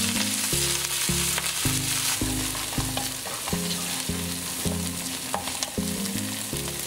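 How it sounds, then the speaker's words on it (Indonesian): Chopped garlic, ginger and scallion leaves sizzle and crackle in hot oil while being stir-fried, with a steady frying hiss and repeated scraping and stirring strokes close by. "Di dalam minyak yang sudah panas kita masak bawang putih, jahe, dan juga daun bawang bagian daunnya."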